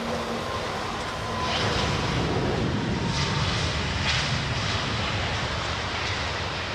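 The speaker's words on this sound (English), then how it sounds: "We'll wait for this Singapore Airlines 777 apparently." A Singapore Airlines Boeing 777 jet airliner roars from a distance, a broad, steady rumble that swells slightly and holds, with no talking.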